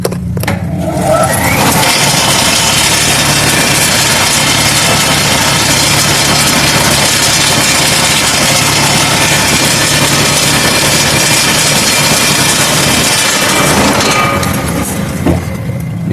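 A household electric water pump motor fitted with an NTC soft start runs as a loud, steady drone with a constant hum, starting up at the beginning and cutting off near the end.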